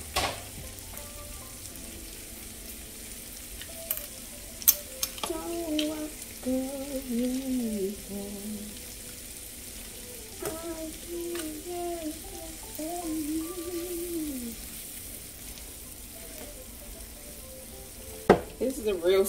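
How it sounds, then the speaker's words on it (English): Chopped onions sizzle and crackle steadily in a hot pan for a simple green bean side dish, with occasional utensil stirring scrapes and light clinks over a continuous frying hiss; faint background voice tones linger underneath. "Just gonna cook these onions down a little bit and then add in my drained green beans"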